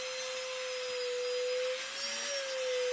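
A drill bores into the wooden base of an otter carving. A steady, close whine holds a constant pitch and dips briefly partway through.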